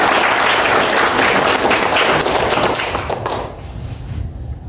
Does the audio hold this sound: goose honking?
no